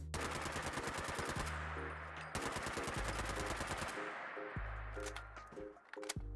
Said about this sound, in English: Let's go ahead and check them out on a pretty basic version of the rifle in automatic.